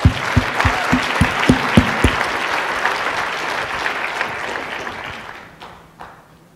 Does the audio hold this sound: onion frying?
no